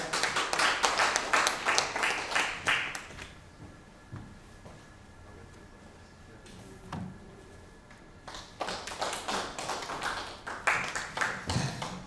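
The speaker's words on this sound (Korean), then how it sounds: "박수 부탁드리겠습니다" Audience applause at an anniversary ceremony, rising in a dense wave of clapping, fading to near quiet in the middle, then swelling again with scattered claps at the end.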